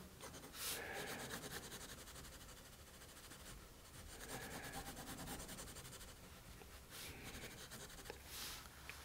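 Graphite pencil scratching and rubbing quickly across paper while a cast shadow on a cube is shaded in, a continuous close rasp with brief brighter strokes at intervals and no talking.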